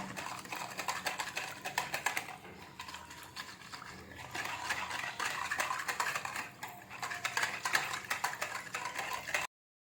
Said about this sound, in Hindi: इसे अच्छी तरह से मिक्स करेंगे ताकि बेसन की घुटनियाँ ना बने।